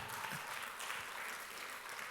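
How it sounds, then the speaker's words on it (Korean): Congregation applauding during a Korean Sunday worship service, a dense continuous wash of clapping that stays even and fairly soft for the whole stretch, with no voice over it. "박수 한번 합시다"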